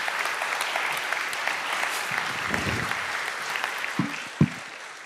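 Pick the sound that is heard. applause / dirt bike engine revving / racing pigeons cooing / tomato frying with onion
applause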